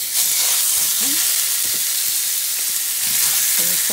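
Pork steak frying in a pan with a little bacon fat, a steady loud sizzle and hiss throughout, with faint clinks of stirring and some low background voice in places.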